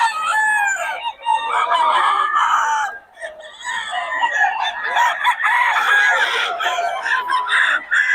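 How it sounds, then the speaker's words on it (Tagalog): Several roosters crow loudly and overlap, with clucking and squawks from nearby fowl, forming a constant busy barnyard chorus. "Quality mga manok ni Boss Batang."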